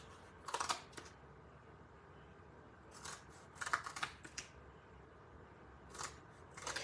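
Scissors snip through paper pieces for a paper pumpkin craft, with several short bursts of crisp cutting separated by quiet pauses, close and fairly soft.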